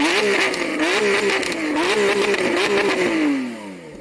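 Loud, close V12 of a Lamborghini Aventador SVJ held at high revs with a rhythmic rise-and-fall pattern, then easing off as the engine note falls away at the end.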